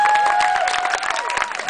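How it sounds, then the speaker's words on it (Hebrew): An audience claps for a speaker at a live talk. Dense, steady applause fills the whole stretch, with a faint sustained tone running underneath. "מוחרת כפיים לשמולי בראון."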